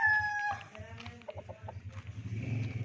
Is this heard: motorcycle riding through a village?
no